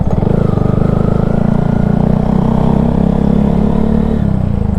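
A 2022 Honda Grom motorcycle engine runs loud and close in a steady rhythmic thrum, with a slight shift in pitch near the end and no talking.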